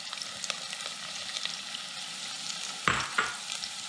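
Carrots sizzle and cook in a pot for sweet potato lentil soup, a soft steady frying hiss with a couple of brief louder stirring scrapes near the end, no talking.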